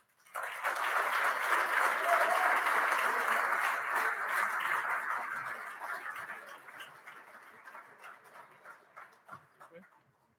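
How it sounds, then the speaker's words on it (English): Audience applause and cheering at the 2018 BC Hockey Awards, a dense burst of clapping that swells quickly, holds, then fades away over several seconds. "Wade's not used to all these cheering."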